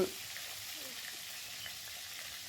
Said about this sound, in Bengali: দেখো আমার মাছটা ভাজা হয়ে গেছে